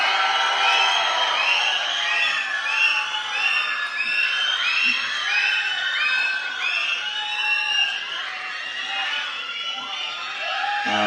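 Audience at a Tamil film audio launch cheering, whooping and shouting loudly and continuously, a dense crowd roar filling the hall with excited voices throughout.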